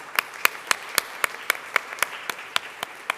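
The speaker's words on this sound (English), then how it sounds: "I want to give her a round of applause for leading this" Steady, evenly spaced claps ring out at a museum collections lecture, a few hands striking in a regular rhythm, fairly faint and distant in an otherwise quiet room.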